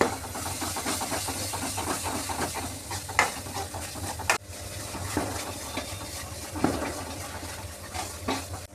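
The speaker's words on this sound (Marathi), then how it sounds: "आपला मसाला आता परतून झाला." Ground masala paste sautés and sizzles in a pan for a Maharashtrian fried mackerel (bangda) curry, with steady stirring scrapes and a few sharper clinks of the spoon against the pan. The sound is close and continuous, with no talking.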